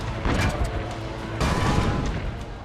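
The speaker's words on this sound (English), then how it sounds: "Ezio needs to man the cannon and fire at siege towers to protect the villa" Cannon fire and battle noise in Assassin's Creed Brotherhood as a villa is defended against siege towers, heavy booming blasts in rough bursts, loud and close, with crashing impacts layered over a dense din.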